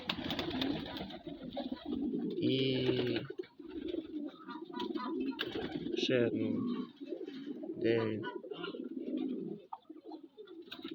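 Pigeons coo in repeated soft, throaty bursts close by, with a person speaking quietly between and over the calls.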